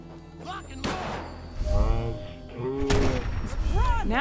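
Gunners in Fallout 4 open fire in loud, sudden bursts of gunshots, one early and a heavier cluster later, while someone talks over the shooting.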